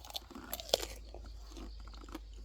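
Someone bites into a crunchy apple jujube and chews, producing a few crisp crunches near the start followed by quieter munching, close and soft with no talking.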